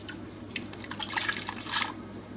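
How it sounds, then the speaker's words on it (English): Water poured around a cabbage head in a crock pot, a short splashing and dribbling pour with uneven bursts, close by and without speech. "And then I'm going to put 2 cups of water around it."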